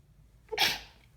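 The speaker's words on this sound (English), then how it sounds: "Excuse me, I have to sneeze." A single sharp sneeze, close and brief, preceded by a quick intake of breath.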